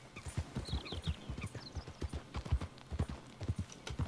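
Horse hooves in the Red Dead Redemption 2 video game, a steady clip-clop gait of repeated hoof strikes at a regular rhythm, close and moderately loud, with a faint whinny-like tone at times.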